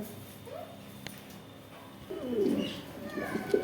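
Lahore pigeons coo in low, soft bursts, growing a little louder toward the end, with some background noise.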